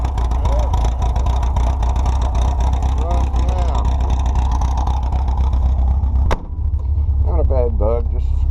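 A 1974 VW Beetle engine running with a steady, loud rumble throughout, briefly dipping for a moment before carrying on, with faint voices underneath.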